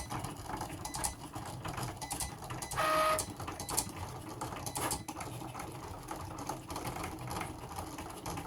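Close, busy mechanical whirring and clicking from a Cricut Explore 3 cutting black vinyl, with one brief louder whining sweep partway through.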